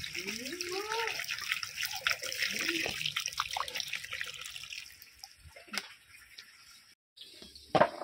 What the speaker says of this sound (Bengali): এবারে দিয়ে দিচ্ছি পরিমাণ মতো জল।